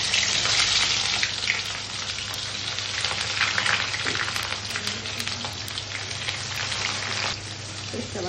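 Onions fry in a small amount of oil in a pan while a Bangladeshi-style chicken polau is being cooked, giving a loud, steady sizzle that crackles continuously from start to end.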